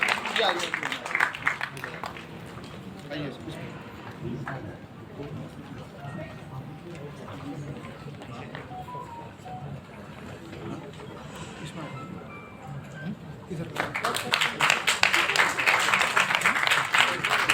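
An audience at a Uttarakhand literary honours ceremony applauds writers on stage. Clapping rises briefly at the start, gives way to a stretch of speech, then returns as a loud, sustained round of applause.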